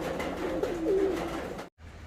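Pigeons at a pet farm coo in soft, throaty repeated phrases, close and clear, with a brief pause near the end.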